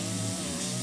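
Power grinder working down rough edges on an old steering wheel from a rusted 1967 Pontiac LeMans, a short loud buzzing, rasping whir held steady, with no voices.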